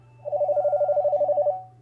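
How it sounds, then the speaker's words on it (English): A phone rings with a single burst of rapid, pulsing electronic trills lasting just over a second, clear and fairly close over a low steady hum, with no voices. "whose phone is ringing?"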